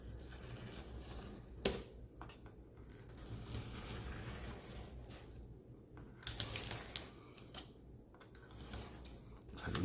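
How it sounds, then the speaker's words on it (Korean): A craft knife scores and cuts paper for a school book model, with faint, close scratchy strokes and small clicks and taps, quiet and irregular, and no talking. "칼끝으로 살짝 자국을 내주고"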